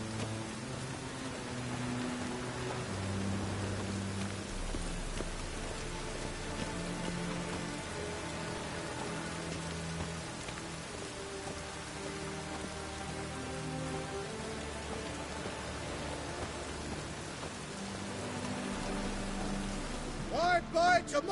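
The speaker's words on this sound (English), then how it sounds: "I like rain. Keeps the rogues indoors." Steady rain falls in the video game The Witcher 3, an even, dense hiss lasting throughout with soft tonal game music beneath it.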